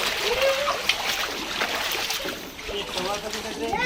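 Rainwater flooding into a house splashes and sloshes continuously, close and fairly steady, with someone talking over it.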